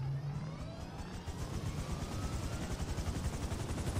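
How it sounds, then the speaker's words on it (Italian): Helicopter in Grand Theft Auto V, its rotor beating in a steady loud rhythmic thump with engine whine throughout, no talk over it. "saliamo sull'elicottero e andiamo a svolazzare allegramente"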